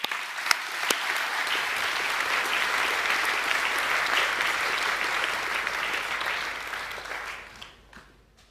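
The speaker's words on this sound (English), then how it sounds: "Can we please give them one more round of applause?" A crowd at an academic awards evening applauds steadily for several seconds, a full even clatter of hands that tapers off at the end.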